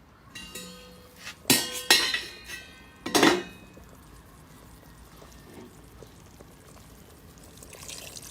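Spoon clinking and scraping against a pot while beef pares is stirred with soy sauce and brown sugar, a few loud metallic knocks followed by soft quiet scraping.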